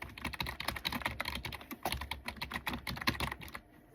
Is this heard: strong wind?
no